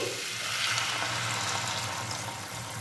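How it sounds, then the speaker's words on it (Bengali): Water is poured into a pan of frying tomato and spices for a pea lentil curry, and a steady bright sizzling hiss carries on alone at moderate volume. "এখানে আমি এক কাপ পরিমাণ জল ব্যবহার করছি"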